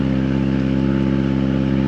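An outboard engine on a RIB inflatable boat runs steadily to warm up its oil before an oil change, a loud, continuous, even mechanical drone with a regular pulsing throb close by and no talking.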